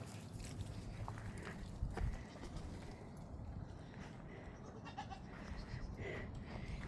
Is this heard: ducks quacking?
no